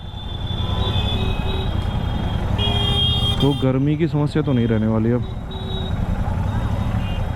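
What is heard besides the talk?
road traffic with car horns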